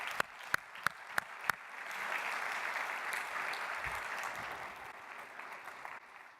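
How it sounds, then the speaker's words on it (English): Audience at an annual business plan competition applauding an Entrepreneur of the Year award winner, a few sharp taps at first, then sustained moderate clapping from a crowd in a hall. "Let's give a round of applause for Raj."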